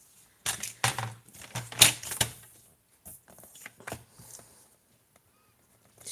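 Card stock being trimmed at the edge during card making, a close run of crisp cutting and scraping strokes in quick bursts, then a quieter gap with a few soft handling sounds.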